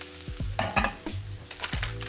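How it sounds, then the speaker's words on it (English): Oil sizzles and crackles in a pan as risotto rice is fried for scallop risotto, with spoon scrapes and soft knocks against the pan breaking the steady hiss, close and moderately quiet. "I'm gonna add a little bit more oil because I kind of want to fry this this risotto a little bit."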